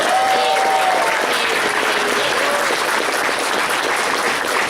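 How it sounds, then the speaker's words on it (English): Dense, continuous applause from a large crowd, loud and unbroken, with a few faint whistles or cheers rising above the clapping. "we need a round of applause"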